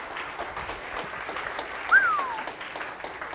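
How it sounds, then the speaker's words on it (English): Audience applause after a volunteer named Zach helps at a magic and illusion show, a steady moderate wash of clapping with a brief whistle rising above it. "Big round of applause for Zach"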